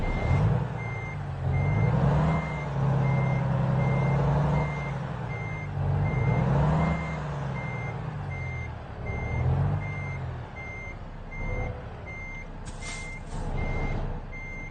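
A truck in American Truck Simulator backs up to a trailer, its reversing alarm beeping steadily and evenly over a low, continuous engine rumble, with no talking.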